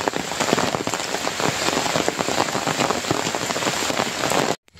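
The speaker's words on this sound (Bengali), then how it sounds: "প্রচুর বৃষ্টি পড়ছে।" Heavy morning rain pours steadily onto a village road, a dense, continuous hiss of drops hitting the surface that stays loud throughout before cutting off abruptly at the very end.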